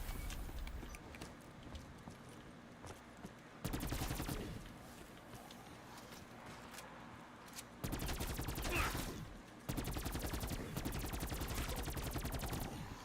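Rapid automatic gunfire in Black Ops 3 Zombies, several sustained bursts of fast repeated shots separated by quieter stretches, loud against a low game background.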